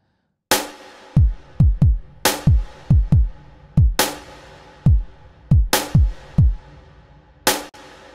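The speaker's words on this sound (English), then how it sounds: "So that reverb is ducking in response to the kick" A deep kick drum thumps in a repeating future bass pattern, each hit followed by a sidechained reverb wash that swells up and ducks away with every beat.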